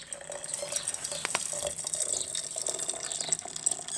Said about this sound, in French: Alors de l'eau chaude à recouvrir les pièces